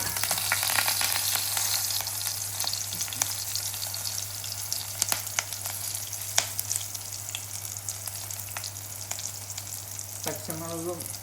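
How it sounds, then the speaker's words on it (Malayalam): Green chilies frying in hot oil for a Kerala-style ginger curry, a steady close sizzle with scattered crackles and pops running throughout, a brief stir or scrape near the end. "പച്ചമുളക് ഇത് നന്നായിട്ട് ഫ്രൈ ചെയ്തെടുക്കണം."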